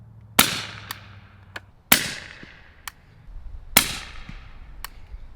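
Handy rifle firing subsonic rounds through a Sylvan Arms SA357 suppressor: three loud, sharp cracks at steady intervals, each with a brief trailing echo and a faint click after it.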